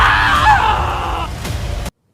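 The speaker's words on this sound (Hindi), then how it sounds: "उसके मुंह से एक चीख निकलती है।" A man's drawn-out scream rises and wavers in a storytelling scene, loud and close, fading into rough noise before cutting off abruptly.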